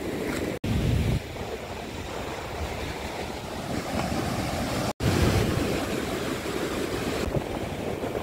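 Sea waves at Marina Beach in Chennai wash continuously onto the shore, loud and close, mixed with wind rumble across the microphone, and no one speaks.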